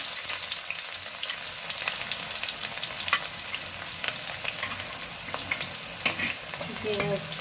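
Onions frying in a pan with curry leaves, a steady oily sizzle with occasional stirring clicks and scrapes, close and continuous without talk.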